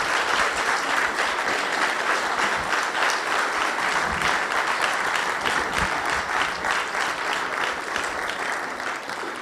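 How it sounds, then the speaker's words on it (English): Steady audience applause in an indoor hall at a vocational training event, sustained clapping from a large crowd holding level throughout and easing slightly toward the end, with no talk over it. "Please keep clapping as she comes."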